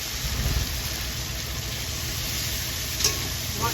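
A spice paste with bay leaves and ripe tomato sizzles and fries steadily in a pan, a continuous close hiss with faint stirring scrapes, no talking.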